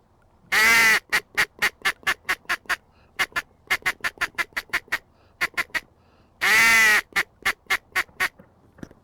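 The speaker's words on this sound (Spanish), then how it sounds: "pato cuchara." Northern shoveler duck calls, likely from a hunting call: two long nasal quacks, each followed by a rapid series of short clipped pulses, repeated in bursts, loud and close with no talk.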